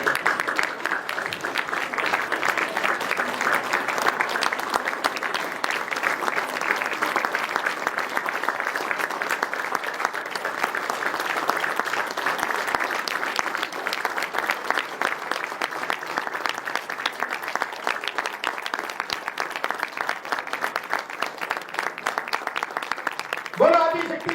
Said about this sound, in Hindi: पूरी टीम के लिए एक बार जोरदार तालियां और सभी खड़े होकर के हम स्टैंडिंग ओवेशन देंगे